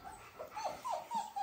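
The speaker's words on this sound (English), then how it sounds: "look at these little puppies" Small puppies whimper in a series of high, thin, rising whines close by, several short cries in quick succession with no talking.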